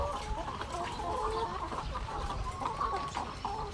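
Chickens cluck steadily on a poultry farm kept for egg laying, several birds overlapping in soft, fairly faint clucks and calls with no talk.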